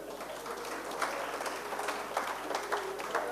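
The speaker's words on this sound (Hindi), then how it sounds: "ताली बजाओ।" Audience clapping at a Hindi comic poetry reading in Delhi, a loose, scattered patter of applause at moderate level that swells in brief bursts over about three seconds.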